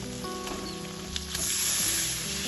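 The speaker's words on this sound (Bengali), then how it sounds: "এখন আমি এর মধ্যে দিয়ে দেবো বাঁধাকপি।" Cabbage hits hot oil in a pan and sizzles steadily, with a brief clatter as it goes in, then a loud, continuous frying hiss up close with no talking.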